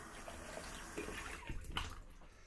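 Tap water runs steadily into a sink to rinse after a wet shave, a soft, continuous splashing heard close up with no talking.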